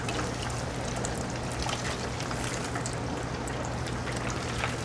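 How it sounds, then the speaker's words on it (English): A whole lionfish fries in hot grease, producing a dense, continuous sizzle with scattered crackles and pops at an even level throughout. "I'm just going to swim it through the grease for a second before I let go of it."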